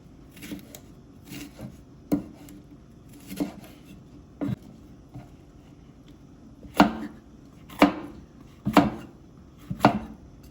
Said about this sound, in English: Chop chop, time to chop up my ingredients